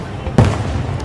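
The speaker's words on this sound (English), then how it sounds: "I'm catching all the fireworks that I possibly can catch." A single Fourth of July firework bursts with a sharp boom in the middle of a brief moment of background noise, heard outdoors at some distance.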